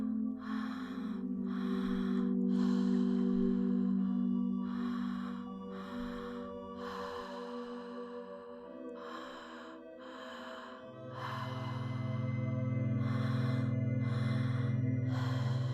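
Slow, deep breaths drawn in and released in a steady rhythm during breathwork, heard close and clear over a sustained low musical drone.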